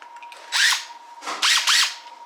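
A cordless power drill whirs in three short bursts, each spinning up and winding down, with a faint steady hum between them, while drilling holes during maple sap season.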